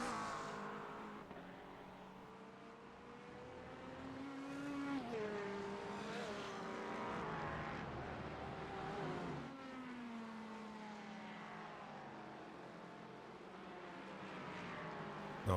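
Mercedes GT4 race cars at Road Atlanta in a racing game, heard from on board with a steady engine drone rising and falling through gear changes and faint tire noise, loud and continuous.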